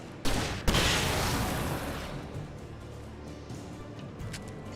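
A flare gun fires in the video game Alan Wake, two sharp loud bursts close together near the start, followed by a long fading hiss and rumble with a few smaller pops.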